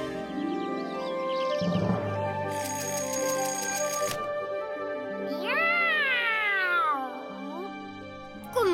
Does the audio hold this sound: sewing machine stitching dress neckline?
no